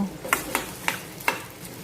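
A few quick stirring scrapes as okra is mixed into hot tempering oil, over a soft, steady sizzle of frying, with four distinct strokes spaced through the short stretch.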